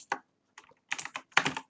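Computer keyboard keys are tapped in quick, irregular clusters during a Minecraft SkyWars duels match, close and crisp, separated by short silent gaps.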